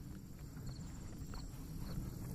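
A red dun horse walks steadily on a farm, its hooves clip-clopping in soft, moderately close beats over a constant low rumble of outdoor background noise.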